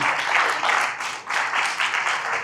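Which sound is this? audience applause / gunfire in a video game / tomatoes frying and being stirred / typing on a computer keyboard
audience applause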